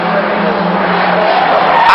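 Ford XR2 race cars lapping Knockhill circuit, engines droning loudly and steadily with a sustained tyre squeal as they battle for position close by.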